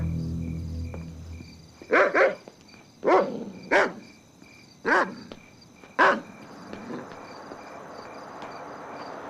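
Several sharp barks from a dog at a guarded security perimeter, about six in paired bursts spaced over a few seconds, moderately near against a steady insect-like background hum with no talk.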